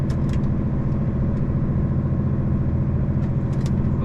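A vehicle engine held in a manual gear while climbing a steep hill in Scotland, a steady, loud low drone that labours without much change, with faint clicks on top.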